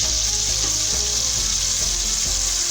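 Paste with green chillies frying in a pan for pulao, a loud steady sizzle filling the clip with faint stirring knocks underneath.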